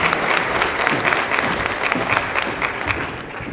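A conference audience applauds steadily for an introduced speaker at a Latin American coffee summit, a dense, even wash of clapping filling the whole stretch without pause.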